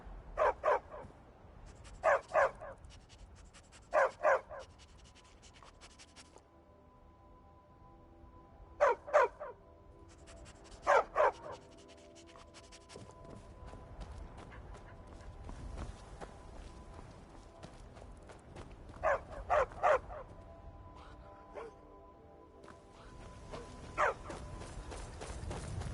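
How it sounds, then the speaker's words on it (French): A dog in the Skyrim video game barks in short clustered bursts of two or three yaps, repeating several times over a steady game ambience of footsteps and environment noise. "Ok, on a un chien maintenant."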